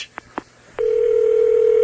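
A telephone on a New York radio call-in line: a few short clicks and a tone burst, then a steady ringback tone that holds loud and unbroken to the end.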